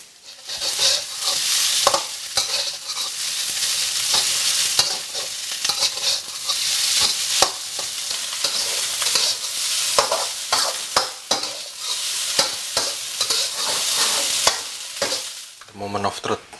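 Fried rice with egg stir-fried in butter in a pan, a loud continuous sizzle broken by repeated scraping and stirring strokes of the spatula, close up and with no talking.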